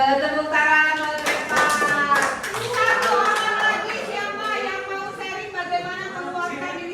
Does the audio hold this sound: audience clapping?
yes